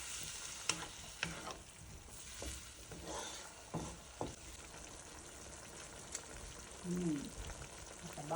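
Ground pork and egg in a frying pan, stirred with a spatula that scrapes and taps in scattered strokes over a soft, steady sizzle, fairly quiet and close, with a brief voice near the end.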